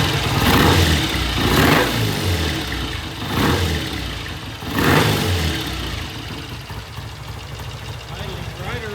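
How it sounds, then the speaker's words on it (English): A 1968 BSA A65 motorcycle engine idles around 900 RPM with a steady low rumble, swelling in a few brief revs before settling back to an even idle. "Idling right around about 900 RPM."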